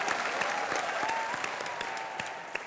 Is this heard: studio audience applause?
yes